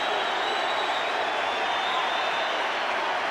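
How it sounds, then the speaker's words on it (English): A big rugby league stadium crowd in Brisbane roars after a Broncos try against Manly, a dense, sustained cheer with applause mixed in, loud and unbroken throughout. "And the crowd love it."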